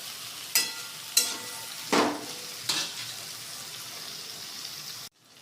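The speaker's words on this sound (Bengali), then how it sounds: "বেগুনগুলো লাল করে ভেজে আমি তুলে রাখবো।" Eggplant pieces fry in a pan with a soft, continuous sizzle, punctuated by four sharp crackling spits spaced about a second apart, before the sound cuts off abruptly near the end.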